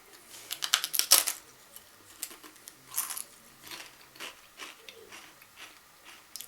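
Fried Icelandic Christmas bread, cooked in coconut oil, crunched between the teeth in a few sharp, crackly bites and then quieter chewing, close up with no talking.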